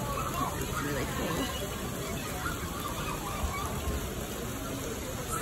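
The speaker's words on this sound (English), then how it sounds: "It's raining constantly." Water falls constantly at a Disney World splash area with tipping buckets and small kids' slides, making a steady close hiss of spray under a babble of crowd voices.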